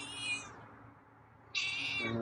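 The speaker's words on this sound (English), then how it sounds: "I think I even heard you meow once." A feral cat's meows outdoors at feeding time, two short tonal calls with a quiet gap between them, moderately close and with no talk over them.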